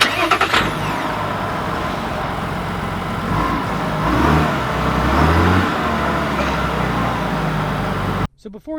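A 2020 Chevy 1500 LTZ pickup's 3.0 Duramax diesel starts with a brief crank, then idles and revs up and back down, close and loud, before stopping abruptly near the end.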